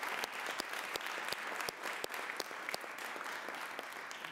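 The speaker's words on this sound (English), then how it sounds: "So let's give them a big round of applause." An audience at a school committee meeting applauds a girls basketball team headed to the state championships, with quiet, sparse claps that snap out individually over a soft, continuous patter from the crowd.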